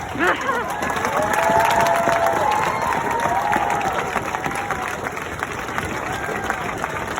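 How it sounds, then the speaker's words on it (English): An audience at a Black Lives Matter protest in Burlington claps and cheers outdoors. The loud crowd applause is steady throughout, with whoops and shouts mixed in and a voice briefly audible. "Okay, you can clap."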